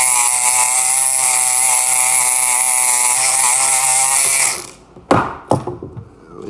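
A Kronos electric lock pick runs with a steady, harsh mechanical buzz for about four seconds. It then cuts off, followed by a few sharp clicks and rattles nearby.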